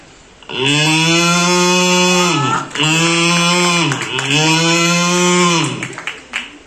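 A voice imitates cows and buffaloes lowing, three long, loud, drawn-out moos in a row, each sliding down in pitch at the end, on a stand-up comedy stage.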